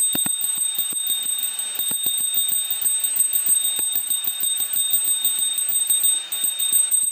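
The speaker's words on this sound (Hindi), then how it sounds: "ग से घंटी" A bell rings out with repeated metallic strikes over a steady high ringing tone, loud and continuous throughout with no voices.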